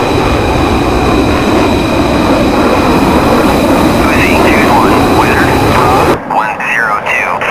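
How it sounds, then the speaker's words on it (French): Mirage 2000C fighter jet in a flight simulator game during a night flight, a loud steady engine roar and whine as the landing gear extends, with radio chatter and a sudden cut to quieter cockpit noise near the end. "Là j'ai sorti le train d'atterrissage."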